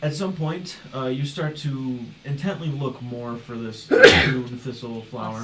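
One abrupt sneeze bursts out partway through steady conversational talk at a tabletop role-playing session, loud and close and briefly overlapping the speech.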